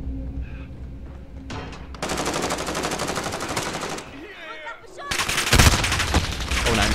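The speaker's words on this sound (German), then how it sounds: "Die schießen auf mich." Automatic weapon fire in Call of Duty Modern Warfare, Moshpit mode, with long sustained bursts and short breaks between them, loud and close in a busy game mix.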